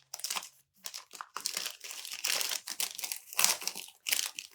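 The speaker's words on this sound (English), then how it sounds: "And then I just unfold the sticky part, the sticky flap." Sticky flap of a transfer sheet being peeled open and unfolded by hand, giving a run of close, crinkly crackles and short rustling bursts with brief pauses between them.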